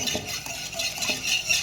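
A utensil beats a chicken marinade in a bowl, giving a steady, close, rhythmic scraping and clinking against the bowl's sides.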